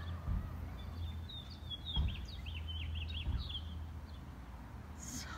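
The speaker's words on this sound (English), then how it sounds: "Listen to the birds." Several small birds chirp and trill outdoors near Zion National Park, quick high twittering phrases over a steady low rumble of background noise, with no talking.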